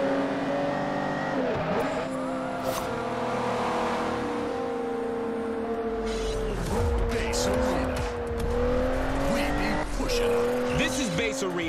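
Car wheels spinning off asphalt in the Forza Horizon 2 racing game, a steady loud engine drone with whining tire squeal and revving shifts throughout, while someone talks over it.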